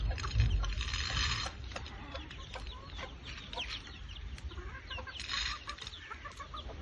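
Chickens cluck and murmur close by in a small backyard flock, with scattered short calls over a low rumbling background and a soft thud near the start.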